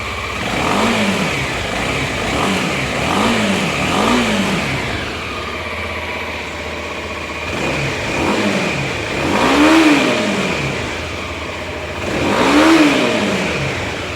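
A Kawasaki Ninja 250SL motorcycle engine idles with a steady mid-pitched rumble, then revs up in several rising and falling bursts, close and fairly loud.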